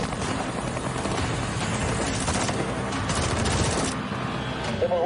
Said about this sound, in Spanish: Nos están disparando, repito, nos están disparando.